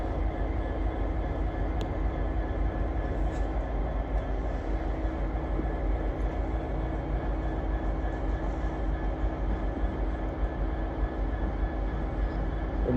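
A North Western Railway electric unit, class 350 number 128, arriving at Crewe on the West Coast Main Line from Birmingham New Street, giving off a continuous low rumble and hum that holds steady throughout with no talking.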